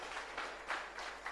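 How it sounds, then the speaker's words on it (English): Audience applause at a startup event, a steady crowd clapping with light swells throughout, fairly distant and not very loud, with no one speaking over it. "a big round of applause for all of them for what they have done"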